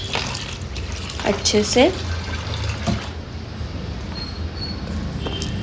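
Tap water runs and splashes while dal lentils are rinsed in a kitchen, a steady close wash of water with someone speaking briefly over it.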